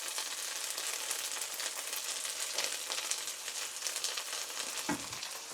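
Curry paste frying in a pan gives a steady, close hiss and crackle of sizzling oil, with faint stirring scrapes and a soft knock near the end; no voices.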